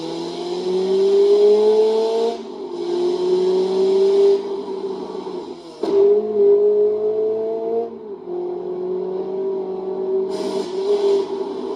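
A video game car engine, played through a Vankyo Leisure 430 projector's speaker, hums and revs steadily, pitch rising and falling with brief dips as it drives along, loud and continuous.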